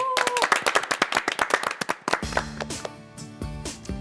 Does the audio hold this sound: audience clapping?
yes